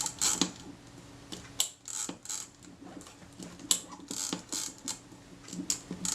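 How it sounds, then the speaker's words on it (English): The sprocket wheel of a Kodak Retina I type 126 camera, turned by thumb inside the body, gives a quiet, close run of small mechanical clicks and ticks in irregular bursts. "I'm just rolling the sprocket wheel with my thumb inside the camera as the film would drag it."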